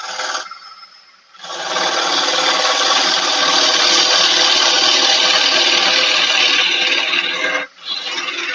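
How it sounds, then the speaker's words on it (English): A hoover vacuum runs during woodturning on a wood and resin piece, giving a loud, steady broadband roar that drops out briefly near the start and again near the end. "I'll leave that hoover on. It's not too loud, is it?"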